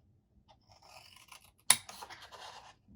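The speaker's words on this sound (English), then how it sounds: "you could do this with your paper trimmer, is just cut an angle" A paper trimmer slices paper at an angle for a mitered corner on a Halloween craft sign, giving quiet scratchy sliding, then one sharp close cutting snap followed by a brief rustling scrape.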